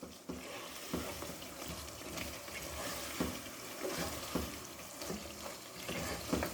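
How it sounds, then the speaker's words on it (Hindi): Spice masala frying in a karahi while chicken karahi is cooked, giving a steady, moderately quiet sizzle with repeated scraping and stirring knocks throughout. "अब इसको हम मसाले को अच्छी तरह से भून लेंगे।"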